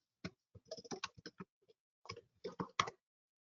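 Search words are typed on a computer keyboard as distinct, close key taps in two quick runs separated by a short pause, with near silence around them.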